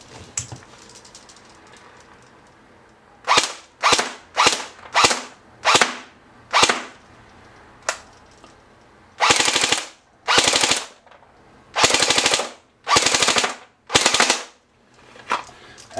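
A Classic Army BT5A3 Sportline airsoft electric gun on an 8.4 volt battery fires a string of short bursts and then several longer full-auto bursts. Each burst is a loud, rapid mechanical rattle, close up, separated by brief pauses.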